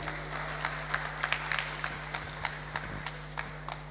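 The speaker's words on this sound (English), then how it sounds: "So give Rico a big round of applause" Sparse, scattered clapping from a small audience at an evening community ideas forum, welcoming Rico to the podium; individual claps ring out over a steady electrical hum.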